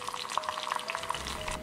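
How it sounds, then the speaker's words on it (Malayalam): Raisins and cashews fry briefly in a pan, giving a short burst of close, lively sizzling and popping with a faint stirring sound, no talk. "സെയിം പാനിലേക്ക് നമുക്ക് കിസ്മിസും കശുവണ്ടിയും ഒന്ന് ചെറുതായിട്ട് വറുത്തെടുക്കാം"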